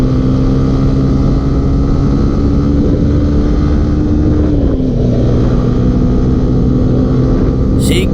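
A CFMoto NK400 and a Yamaha Sniper 155 run at speed together, giving a loud, steady engine drone with wind noise; the pitch dips briefly midway, then settles again.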